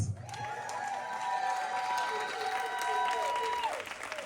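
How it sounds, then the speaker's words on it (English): An audience applauds at a live reggae concert, with sustained clapping and scattered cheers while a sustained tone rings over the crowd. "a round of applause"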